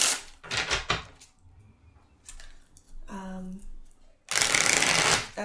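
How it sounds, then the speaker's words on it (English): Tarot cards riffle-shuffled by hand in several bursts, crisp papery flutters with pauses and soft handling noises between, the last shuffle loudest and longest. "I'm going to do 3 shuffles. 3 shuffles with your deck."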